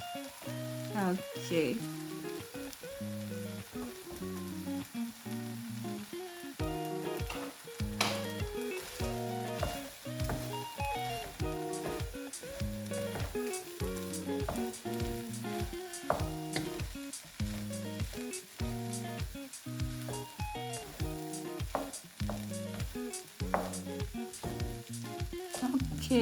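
Eggs and vegetable fried rice sizzling steadily in a pan with repeated rhythmic spatula scrapes and clinks, close and constant, and a voice briefly speaks over a background of music.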